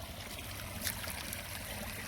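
Water runs out of a pipe onto farmland, a soft continuous trickling flow, faint and steady with no voices.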